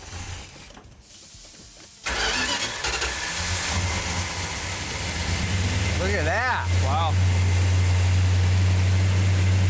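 A small engine catches at about two seconds and settles into a steady low idle, with people talking briefly over it.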